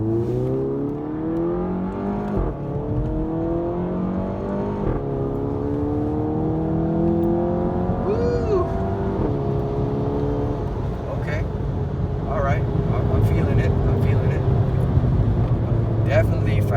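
A Volkswagen GTI MK7 with an ARM downpipe and Cobb Stage 1 tune accelerates in manual mode, its engine note rising through several gear shifts inside the cabin, steady and fairly loud, with some talking underneath.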